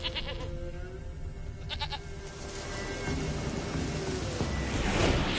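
Goat bleats in a PS4 game, several short nasal calls early on and again near the two-second mark, set against a steady, rising ambient game soundscape with no talking.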